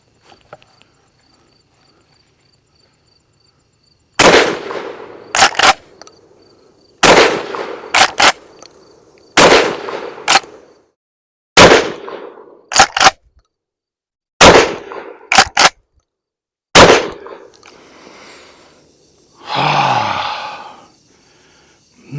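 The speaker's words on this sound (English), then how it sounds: "we'll test the Magnum capacity, the Magnum strength of this gun" A Charles Daly Field Maxi-Mag 12 gauge 3 1/2 inch magnum shotgun fires outdoors, sending sharp, very loud blasts spaced a couple of seconds apart, with some shots in quick pairs and echoes trailing off between them.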